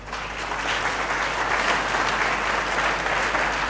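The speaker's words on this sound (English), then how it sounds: "A big round of applause for the panelists." A conference audience applauds a mobile trading panel, a dense, steady wash of many hands clapping that holds evenly from start to finish.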